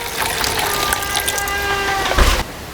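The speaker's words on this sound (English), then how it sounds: "So I'll just pour the gas that's in it in this container." Gasoline pours in a steady gush from the tank of a Stihl MS170/MS180 chainsaw into a container, a loud continuous liquid rush with a brief louder splash near the end before it stops.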